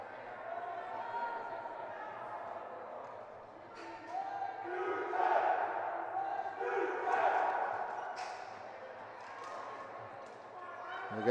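New Tecumseth men's team members chanting and cheering from the stands at a women's hockey gold medal game, rhythmic group shouts rising and falling in a rink, moderately distant.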